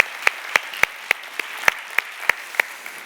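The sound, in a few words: applause of thanks and encouragement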